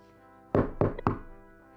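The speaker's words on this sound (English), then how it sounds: "The person kept knocking," Three firm knocks on a door, evenly spaced and loud against a quiet background.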